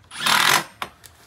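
A quarter-inch drive tool spins a short Simpson SD structural screw into a brick veneer bracket in one close half-second burst, followed by two brief clicks.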